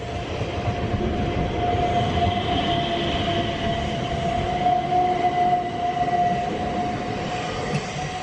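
A Southern rail passenger service passes near Denmark Hill, a steady rumbling roar of wheels on track that holds at an even level throughout, with no voices.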